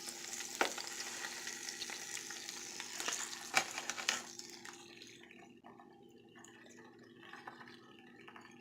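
Chicken pieces frying in a pan for Indian chicken, a steady crackling sizzle with a few sharp pops and spatters, fading quieter in the second half.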